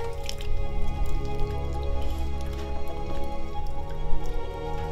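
Rainwater from a house gutter drips into a container set beneath it. Repeated close drops land with wet plinks and splashes at an uneven rhythm over a steady watery background, with no talking.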